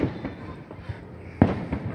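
4th of July fireworks going off outdoors, with several muffled pops and bangs and one sharper, louder burst near the end, with crackling noise in between.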